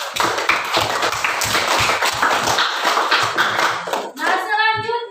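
A class of students gives a round of applause for two pupils, Fajar and Yusuf, during a school lesson: dense, steady hand clapping fills most of the stretch, then it fades out near the end.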